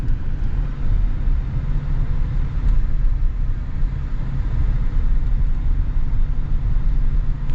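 A 2025 GMC Sierra 1500 Duramax diesel pickup in Elevation trim is driving. A steady, loud low rumble of engine and road noise fills the cabin without a break, with no talk.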